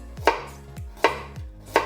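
Carrots sliced into thin rounds with a knife, three distinct close, crisp chops at an even pace, no talk.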